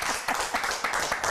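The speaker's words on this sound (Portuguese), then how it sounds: "Um forte aplauso." A lively burst of audience clapping celebrates the winner of a reality show, many hands striking in a fast, uneven patter that swells in rhythmic pulses, close and loud.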